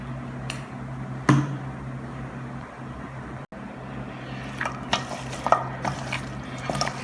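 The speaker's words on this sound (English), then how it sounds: "now we're going to mix all that good seasoning in there" Seasoning is worked into raw oxtail meat for Jamaican oxtail, a close, moist squelching and stirring with a couple of sharp knocks against the bowl and a brief dropout in the middle.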